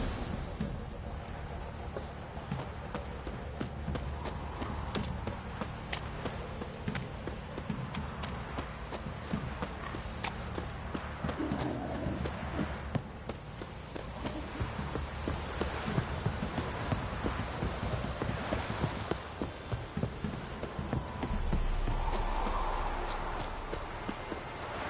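Roach the horse in The Witcher 3 clops along steadily for about 25 seconds, a continuous run of hoofbeats set against game ambience, with a low rumble near the end.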